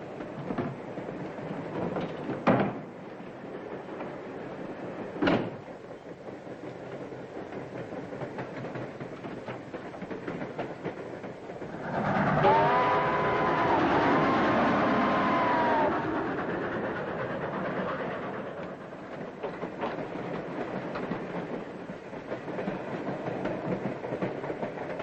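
A train rumbles steadily along the tracks with a low continuous drone, two sharp clanks early on and a louder swell of rolling noise midway, in the 1940 film Midnight Limited.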